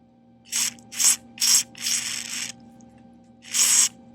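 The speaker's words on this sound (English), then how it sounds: "And then I just spray a little bit of that chemical behind it" Several short hissing bursts from an aerosol can of chemical sprayed behind a boat's rub rail during hull-to-deck joint repair, four quick sprays, then a pause and one longer spray, close by, over a faint steady hum.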